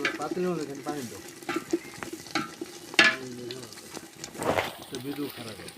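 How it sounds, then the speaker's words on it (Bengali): Masala spice paste fries and is stirred in a cooking pot for beef curry, a steady sizzle with scraping strokes running beneath nearly continuous talking. "এখন আমার মশলা কষানি হয়ে গেছে"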